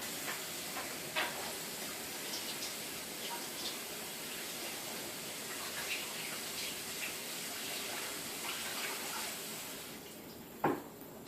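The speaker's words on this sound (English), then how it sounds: "I am going to wash off my hands" Water runs steadily from a tap as hands are washed beneath it, a soft continuous hiss with faint splashes and a small clatter near the end.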